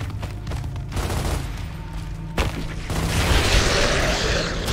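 Gunfire and an explosion in the shooter video game Gears of War, with a rattling volley of shots followed by a loud boom and a sustained rumbling blast, no talking over it.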